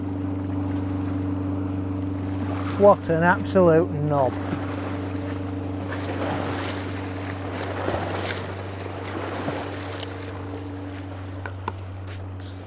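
Boat passing along the River Aire at West Haddlesey during a match fishing event, a steady low engine drone with wash and waves running through, while someone speaks briefly and whistle-like tones sound near the start.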